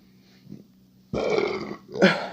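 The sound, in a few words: burp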